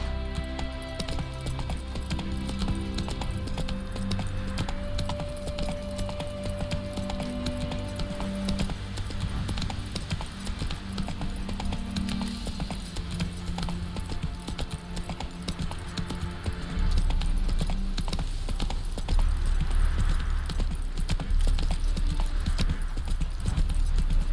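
Steady galloping hoofbeats from Roach the horse in The Witcher 3 drum on under music throughout, growing heavier and louder toward the end.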